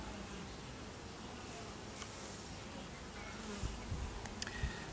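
Honey bees buzz steadily around an opened top bar hive during an inspection, a close, continuous hum with a few brief wooden clicks and knocks near the end.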